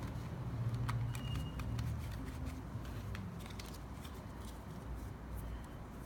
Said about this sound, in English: Make sure that the cards are well shuffled.